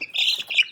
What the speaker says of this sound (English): Let's see if I can grab one here.